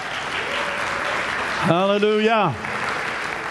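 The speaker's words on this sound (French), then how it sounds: "On applaudit Jésus." Church congregation clapping together in a sustained, dense wash, with one voice calling out loudly over the applause midway before the clapping carries on alone.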